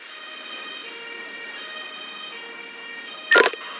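An ambulance siren in the game Emergency 5, a steady tonal wail held at a moderate level, broken near the end by a short loud burst.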